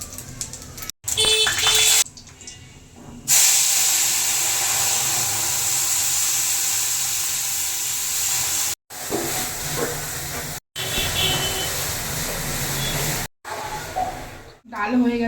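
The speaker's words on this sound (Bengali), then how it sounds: "শুকনো লঙ্কা ভেঙে দিয়ে দেবো, আর দেবো পাঁচফোড়ন" Dry chillies and panch phoron sizzle in hot mustard oil in a kadai, a loud steady hiss broken by a few short gaps, with some speech at the start.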